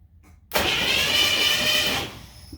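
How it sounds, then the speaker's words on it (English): A replacement starter motor, previously mouse-infested, cranks an engine in one sustained whirring spin of about a second and a half that begins abruptly out of near silence and then stops. "put in the mouse-infested starter, and we're gonna see if it spins now"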